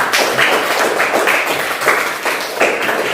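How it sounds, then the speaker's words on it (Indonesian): Classroom applause for a student named Lolita, a loud burst of many hands clapping in quick, uneven rhythm throughout, close and steady with no talk. "Ayo kita sampaikan tepuk tangan untuk si Lolita."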